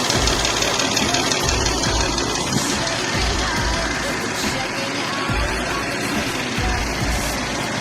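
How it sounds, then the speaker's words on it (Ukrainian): A poorly maintained Toyota Land Cruiser 2UZ-FE engine, running faultily, idles nearby with an uneven, knocking rhythm and rattly vibration, running continuously without pause. "На першому відео неправильна робота двигуна"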